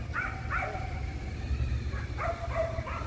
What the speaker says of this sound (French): Oh le pauvre chien, il arrête pas de gueuler.